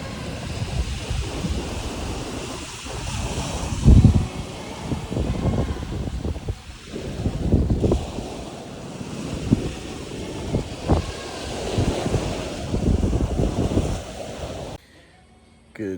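Ocean surf rolls and crashes in uneven bursts on a wet-sand beach at Jomalig, mixed with heavy wind buffeting, with occasional indistinct voices nearby.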